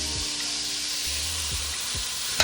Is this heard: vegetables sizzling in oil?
yes